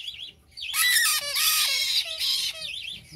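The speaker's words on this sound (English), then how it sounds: "These are the loudest babies" Loud, harsh squawks from young hybrid conures in a rapid overlapping burst, with a few sliding screeches; quieter chirping before and after.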